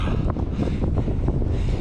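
A cyclist's microphone is buffeted by wind while riding with a light tailwind. The roar is steady, dense and low, with gusty swells and no voices.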